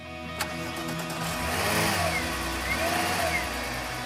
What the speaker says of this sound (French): le son qui vrombit du VR6